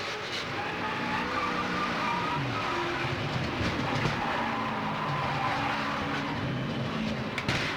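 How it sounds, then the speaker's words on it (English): A race car's tire goes flat during a crash at Daytona International Speedway in the 2003 Pepsi 400, engine roar and scraping tire noise blending into a continuous loud rumble with no talk. "You can hear the tire going flat."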